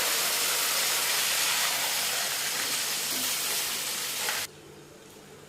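Jackfruit chips deep-frying in hot oil give a steady, dense, loud sizzle that runs unbroken, then drops off sharply near the end, leaving only a faint hiss.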